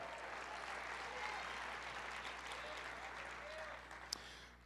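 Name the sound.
congregation applauding in church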